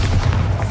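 Bombarda explosion spell in Hogwarts Legacy video game, a short loud close boom with heavy low rumble filling the whole moment.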